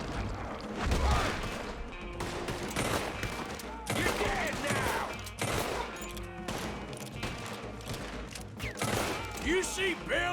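Gunfire from a gun in Red Dead Redemption 2 cracks in dense, repeated volleys throughout, loud and close, with shots from other shooters and voices talking over the shooting.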